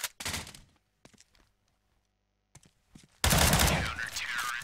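Gunfire in a CS:GO one-on-one match: a short opening burst, a few faint scattered taps, then a loud, sustained volley of shots to the end.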